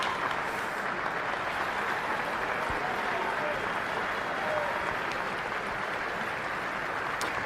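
A large crowd in the Argentine Congress applauds without letup during Milei's 2025 budget announcement, a dense, even wash of clapping that holds steady throughout.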